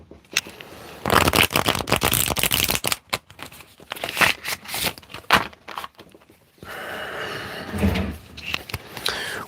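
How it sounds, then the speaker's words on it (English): A deck of tarot cards is shuffled by hand nearby, in quick riffling bursts with short pauses between them and a softer rustle at the end. "let me just shuffle this properly."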